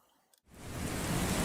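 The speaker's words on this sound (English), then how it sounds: "So what if I just artificially bring in rain?" Artificial rain switched on in a game engine's ambient sound system: after a brief near-silence, a loud broadband hiss of steady rainfall swells in within half a second and holds evenly.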